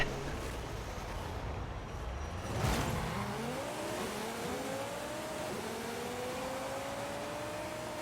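A 620 HP 2011 Audi RS3 Sportback with a drag tune in Forza Horizon 5 launches and accelerates through rising gear pulls, engine pitch climbing, dipping at shifts and climbing again, loud and steady with no talking.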